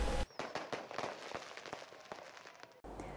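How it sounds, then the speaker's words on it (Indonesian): Rapid bursts of New Year's Eve fireworks crackle and pop in an irregular volley, sharp and loud, with brief pauses between explosions. "Semarak pesta kembang api selama 8 menit menandai malam pergantian tahun"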